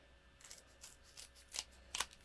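Scissors snipping a piece of paper for card making, several short crisp cuts close by and fairly quiet, spaced roughly half a second apart with the last two strongest, no talking.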